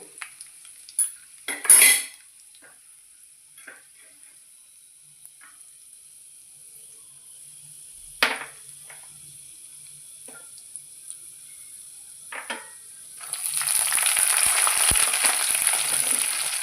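Dried red chillies and grated coconut frying in a pan while a utensil stirs and scrapes against the metal, with a steady sizzle that swells louder near the end, alongside occasional clinks.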